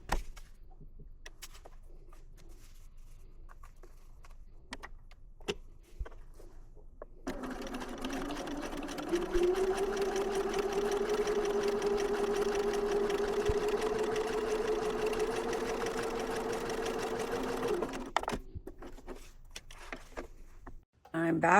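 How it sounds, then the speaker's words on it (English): A home sewing machine stitches a diagonal seam across a flying geese quilt block, a fast steady mechanical whir lasting about ten seconds, with quiet handling noises and talking before and after. "take it back to my sewing machine and sew on the diagonal"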